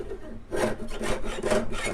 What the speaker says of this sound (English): I started sawing without you.